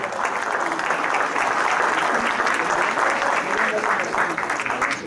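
Sustained applause from an audience honoring the painter Rubén Martínez at an event presenting painting talents, steady and dense clapping filling the room throughout.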